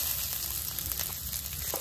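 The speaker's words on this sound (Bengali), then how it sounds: "পেঁয়াজ কাঁচামরিচ ভালোভাবে ভেজে নিছি" Onion and green chilli frying in a little oil with garam masala in a kadai wok, giving a steady, close sizzling hiss without a break.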